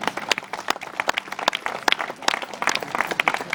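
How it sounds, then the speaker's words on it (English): Wedding guests break into applause, a lively stretch of many hands clapping with irregular sharp peaks, moderately loud and continuous with no talk over it. "I would like you all to please give them a round of applause."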